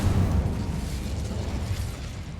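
An Incendio fire spell cast in Hogwarts Legacy, a deep roaring burst of flame that rumbles steadily through the whole moment, loud and close with no voices.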